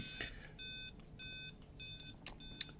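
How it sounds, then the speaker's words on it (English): Repeated electronic kill switch warning beeps from a Rovan AS1 Baja Buggy RC car, in a steady on-off pattern, five or so short tones, fairly quiet with a faint background hum. "that will activate the kill switch, which will beep and the button will flash"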